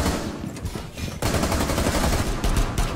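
Rapid bursts of video game gunfire crackle continuously and loudly, with dense overlapping shots and a sharp louder volley partway through.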